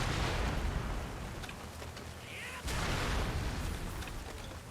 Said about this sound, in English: Got a literal cannon and I missed.